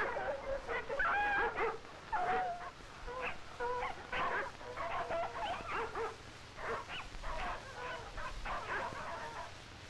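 Sled dogs bark and yip in Alaska, a pack sounding repeated excited barks and whimpers at close range with a steady rhythm.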